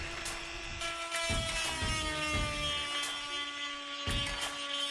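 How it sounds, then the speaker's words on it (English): A grinder runs against a cured resin rust-repair patch on a Mazda Miata body, producing a steady high motor whine with uneven bursts of rougher grinding at close range. "and grinding"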